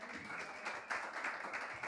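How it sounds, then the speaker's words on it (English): An audience at a jazz history panel claps in a steady, moderately quiet round of applause that continues throughout. "give a huge round of applause"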